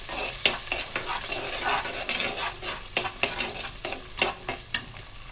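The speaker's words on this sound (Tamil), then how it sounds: "இப்போ வெங்காயம் நல்லா வதங்கணும்." Onions frying in oil for a mackerel fish curry, a steady close sizzle broken by repeated scraping stirs of a spoon in the pan.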